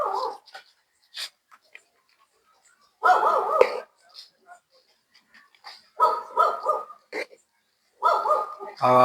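Street dogs bark in short sharp bursts along a roadside while being fed, with yips and whimpers in between, loud and close, separated by quiet gaps, and a person talks at moments.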